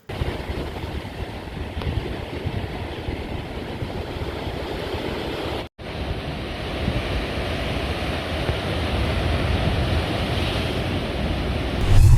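Rough sea waves pound the Puducherry coast in a continuous, loud roar of surf, with wind buffeting the microphone and no voices.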